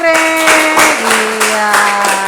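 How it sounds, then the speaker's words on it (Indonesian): A classroom of students claps for a group, a dense run of close, brisk handclaps with a voice or tone lingering underneath. "Oke, tepuk tangan kelompok Anggrek."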